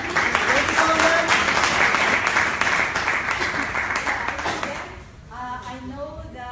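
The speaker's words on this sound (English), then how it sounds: "As we clap our hands for my mom, can you also clap your hands for myself?" An audience applauds at a gathering, dense close clapping for about five seconds that fades out, followed by a voice speaking.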